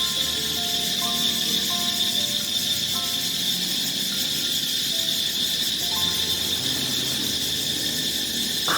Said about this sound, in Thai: อันนี้มันเสียงอะไร เสียงจักจันครับ